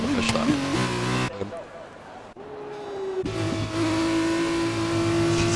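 A race car engine in rFactor 2 at the Austrian GP as the car spins on corner exit, revving and whining through gear changes, briefly dropping away, then holding a steady high drone under a commentator's voice.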